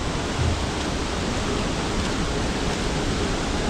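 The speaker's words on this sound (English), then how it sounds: "this might be hard to get up this creek" Continuous broadband rushing of a flowing creek near a waterfall in the Bali jungle, loud and steady throughout with no voices.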